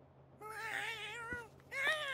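A cat in South Park: The Fractured But Whole gives two drawn-out meows, close and clear, the second rising sharply, over a faint low background hum.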